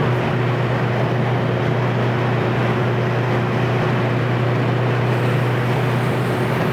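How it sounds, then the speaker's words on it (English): Steady broadband wind roar fills the cabin of a 1978 Datsun 620 cruising at 70 mph around 3,500 rpm, with a constant low drone underneath and no voices. "Got the wind noise."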